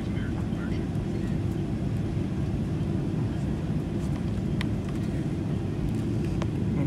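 WestJet airliner engines at takeoff from Vancouver airport (YVR), a steady loud roar heard from inside the cabin, continuous and broadband throughout.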